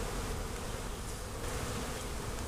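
Steady, dense buzzing of many honeybees in a long hive during inspection, close and continuous with no voices, a constant hum filling the whole stretch.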